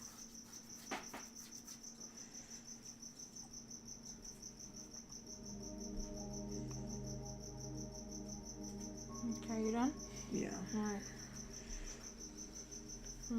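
A cricket chirps in a steady, rapid high-pitched pulse throughout, faint and constant beneath quiet background music and a few short exchanges of casual talk.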